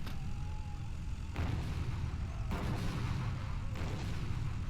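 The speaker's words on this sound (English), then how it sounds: "Let's go ahead and launch an airstrike" An airstrike pounds rebel forces in the strategy game Power & Revolution, played as the Syrian Arab Republic. Three heavy, rumbling blasts land about a second apart over a constant dense roar of battle.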